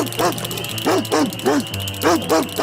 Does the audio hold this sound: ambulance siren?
no